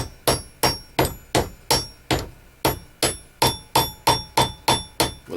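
A 12 or 16 ounce hammer taps lightly and steadily, about fourteen even metallic strikes at a regular rhythm, each ringing briefly and then decaying, close by with no voices.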